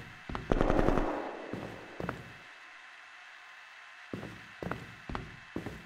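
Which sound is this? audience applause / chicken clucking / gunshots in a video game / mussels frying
gunshots in a video game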